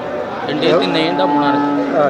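A native-breed cow lows at a busy cattle market, one drawn-out moo rising and wavering over about two seconds while people talk nearby.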